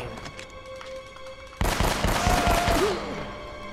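Shotgun blasts boom out in a shootout in Uncharted: Drake's Fortune, one heavy close report cutting in suddenly and followed by a rapid cluster of loud shots over a tense game score.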